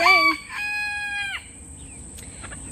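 A Frizzle chicken flock crows and clucks nearby: a loud drawn-out rooster crow with harmonics dominates, followed by short scattered clucks, with no talk.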